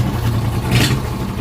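A race mower engine idles roughly and loads up, a loud close rumble with a slight swell in the middle of the short stretch, no voices.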